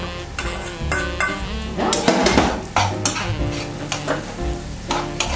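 A utensil stirs browned shallots and porcini mushrooms in a frying pan, with repeated scraping and clinking strokes over a soft sizzle and one brief spoken word.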